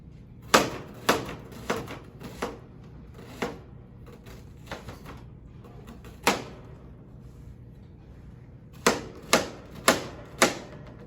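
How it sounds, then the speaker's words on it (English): A knife roughly dices vegetables for a meatloaf with sharp, irregular chops on a board, some spaced apart and others in quick bursts, all heard alone and fairly close. "we'll go ahead and give that a dice, but it'll be a rough dice, a little bit larger pieces"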